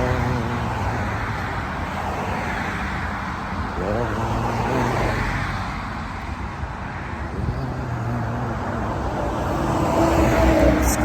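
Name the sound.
road traffic, cars passing by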